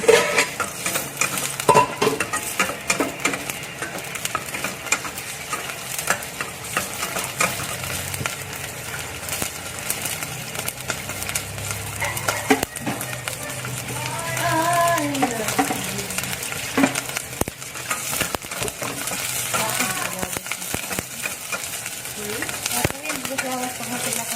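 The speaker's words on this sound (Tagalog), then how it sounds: "Igisa natin ang ating bawang." Garlic sautés in a pan for Filipino chicken tinola, a soft steady sizzle with scraping spatula strokes and occasional clinks of utensils, while a person talks intermittently over the cooking.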